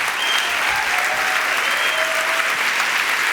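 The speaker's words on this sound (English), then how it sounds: "So big applause to Alberto Mielgo." A crowd applauds loudly and steadily after a talk by animator Alberto Mielgo, dense continuous clapping with no voices.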